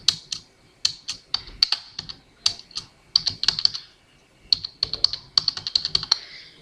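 Brisk typing on a computer keyboard during accounting work, close and clear, with crisp key clicks in irregular bursts and short pauses between, and no voices.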